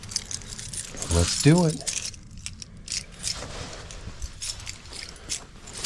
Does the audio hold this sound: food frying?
no